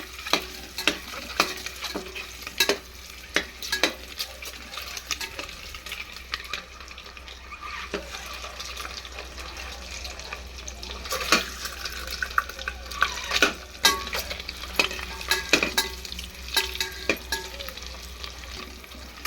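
Eggs fry in oil with turmeric for egg biryani, crackling sizzle under repeated scraping and stirring of a spatula in the pan, with sharp intermittent clacks close by.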